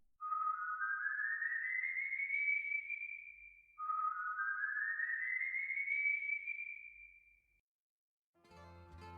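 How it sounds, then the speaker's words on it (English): Two long rising whistles, each sliding smoothly upward in pitch over several seconds and ending abruptly, give an eerie, haunting effect; a short burst of broadband noise follows after a brief silence. "you just might hear the haunting whistle of a tormented soul seeking redemption"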